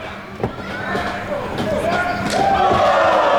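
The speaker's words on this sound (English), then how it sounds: "Some chops back and forth." Pro wrestlers trade chest chops in a match at an indoor wellness center, with sharp slaps ringing over crowd noise while a commentator talks.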